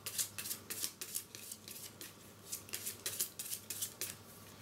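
Cards from a Harry Potter Hogwarts Battle deck-building board game are shuffled close up, giving a quick run of crisp, rhythmic riffling bursts in a quiet room.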